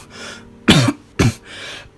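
Two harsh coughs, loud and close, ring out with a short breathy pause between them, set amid the quiet reading of a gothic tale set in damp, niter-crusted catacombs.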